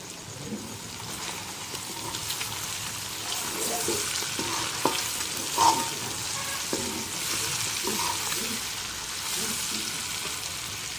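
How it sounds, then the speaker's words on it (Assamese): Continuous crackling sizzle of pork frying in its own fat with no added oil, with occasional scrape or clink of stirring; no voices. "দেখিছেনে বাৰু কিমান ধুনীয়াকৈ ফ্ৰাই হৈ গৈছে।"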